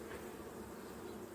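Honey bees hum steadily as a swarm settled on four hive frames, a continuous soft drone close by with no pauses.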